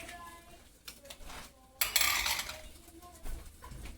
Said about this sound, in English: I'm going to put the rigatonis in the stainless steel bowl.